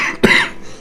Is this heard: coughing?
yes